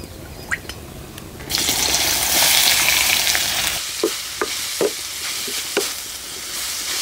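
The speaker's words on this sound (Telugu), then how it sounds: "కడాయి పెట్టుకుని 2 చెంచాలు నూనె వేసుకొని ఉల్లిపాయలు వేసుకుందామండి." Onions drop into hot oil in a kadai for a dhaba-style cashew tomato curry, a loud close sizzle bursting out after a quiet start, then easing into softer frying with scattered stirring clinks.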